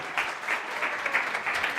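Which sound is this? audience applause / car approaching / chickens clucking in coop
audience applause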